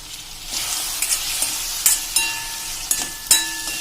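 Bottle gourd sambharo frying and sizzling in a pan as a small splash of water goes in, with a steady hiss broken by sharp clinks and stirring scrapes.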